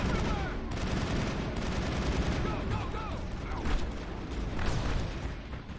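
Turret gunfire in the Mass Effect video game, rapid bursts of shots and booms over busy combat noise, moderately loud and continuous, with a player's voice talking over the action.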